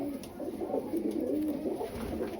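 Pigeons coo in a continuous, overlapping warble, a soft rolling sound that stays steady and close, with no voices.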